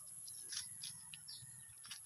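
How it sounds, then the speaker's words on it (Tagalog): Pet birds chirp after a typhoon, faint scattered tweets over a steady insect-like hiss, quiet and distant with no voices. "Okay naman yung mga ibon natin guys."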